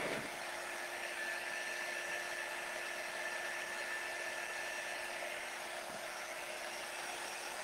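A handheld heat tool blows steadily on high to dry chalk-paste ink on a craft transfer, a constant airy whoosh with a thin electric whine, close and uninterrupted.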